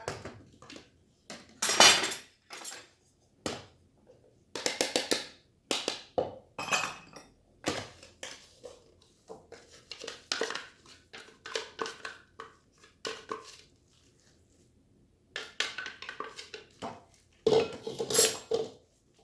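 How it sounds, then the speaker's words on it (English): Black bean burger mixture stirred in a bowl with a utensil, producing repeated clinks and scrapes in irregular bursts with short pauses; no voices. "So you mix the whole thing like that."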